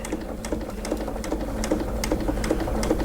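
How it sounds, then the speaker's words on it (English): A sewing machine stitches along the folded edge of an A5 binder cover, a steady rapid needle patter running continuously and close by, with no talk over it. "I am just stitching on the other side of it."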